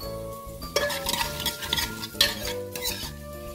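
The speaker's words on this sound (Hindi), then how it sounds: "अब एक कुकर में हमने एक बड़ा चम्मच ऑयल डाला है और इसमें जीरा, मेथी और करी पत्ता का छौंका लगा देंगे।" Cumin seeds, fenugreek and curry leaves crackle and sizzle in a spoonful of hot oil in a pressure cooker, a steady frying hiss with a few scraping stirs and utensil clinks, close and without talk.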